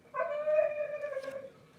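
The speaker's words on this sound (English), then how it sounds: "The dogs are in heat." A dog in heat gives a single drawn-out howl, fairly faint and close, holding a steady wavering pitch for over a second before trailing off into quiet.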